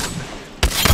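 Gunfire in Apex Legends, a dense noisy wash of shots that suddenly bursts louder into rapid heavy reports, close and loud with no voice over it.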